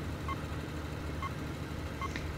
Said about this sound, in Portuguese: Esse sinal sonoro, esse bipzinho que vocês estão vendo, é a polícia,